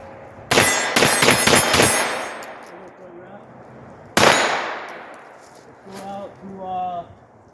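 A pistol fitted with a tennis ball brace fires at steel targets 75 yards out, a rapid string of loud sharp shots followed by a single shot and faint metallic rings, with brief talk at the end.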